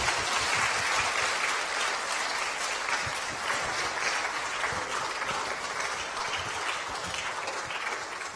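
Sustained, dense applause from a church audience, a steady wash of clapping hands that holds at an even level throughout with no speech.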